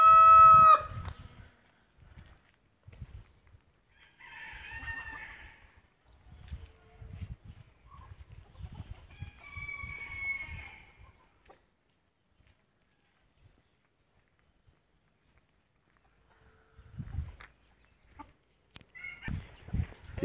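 White bantam chickens cluck and a rooster crows in short, scattered bursts, fairly faint, with quiet pauses and a soft voice between the calls.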